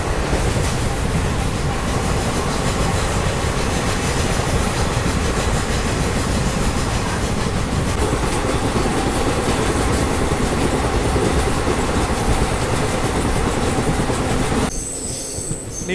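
A train pulling into Munirabad railway station on a sleeper-class journey, with a loud, continuous rumble of railcars, clattering wheels and drawn-out squealing close by. The noise stays steady before dropping slightly at the very end.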